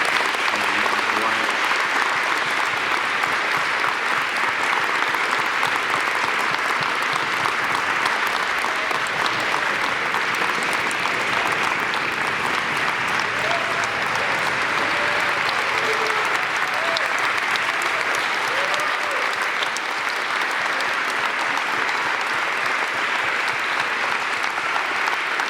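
Sustained, loud applause from a large audience honoring Dr. White, dense uninterrupted clapping that holds at full strength for the whole stretch, with faint crowd murmur underneath.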